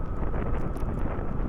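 Steady wind rush buffets the microphone during a motorbike ride toward Mini Ilam in Bhotechaur, a dense low roar filling the whole stretch with no voices.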